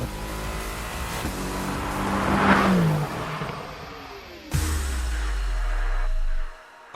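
A Mercedes-AMG GT R coupe engine revs up and falls away, then fires again with a sharp blip and a rising, loud roar that cuts off abruptly; no talk.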